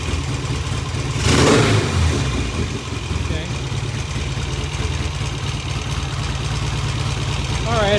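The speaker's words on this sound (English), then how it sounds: "Idling a little high, but it doesn't sound high, which is interesting." Vintage British motorcycle engine idling slightly high, a steady low throbbing rumble close by with a brief rev or surge near the start, no speech.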